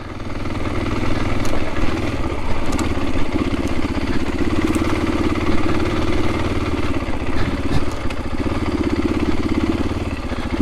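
A KTM EXC-F 500 dual-sport dirt bike running steadily on a trail, its engine a loud, continuous close-up drone with no break throughout.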